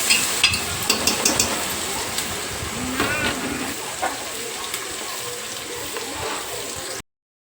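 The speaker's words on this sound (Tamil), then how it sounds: "நல்லா மிக்ஸ் பண்ணிக்கலாம் வெங்காயம் வதங்கணும்" Onions being sautéed and stirred in a pan for chicken biryani, with a steady close sizzle, a string of sharp scraping clicks from the spoon early on, and brief talk over the cooking.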